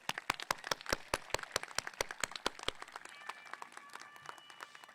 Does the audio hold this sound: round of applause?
yes